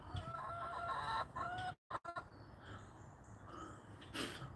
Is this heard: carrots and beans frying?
no